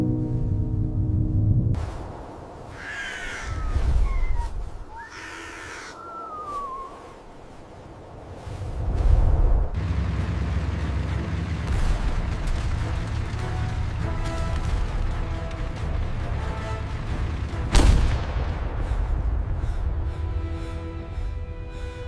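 A WW2 battle scene rumbles with low booms of artillery and steady machine gun fire, mixed with whistling shells and a sharp blast near the end, loud and continuous throughout.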